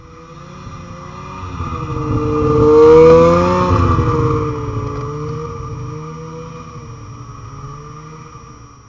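A Ski-Doo Skandik snowmobile pulling out in deep cold, its engine note rising and swelling as it passes close by at about three seconds, then fading away as it drives off.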